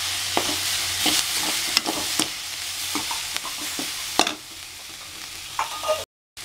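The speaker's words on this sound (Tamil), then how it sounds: "காய்கறியெல்லாம் நல்லா வதங்கிருச்சுங்க." Vegetables sizzle and get stirred in a hot pan while cooking flattened rice kichidi, a steady frying hiss broken by occasional scraping spoon strokes close by.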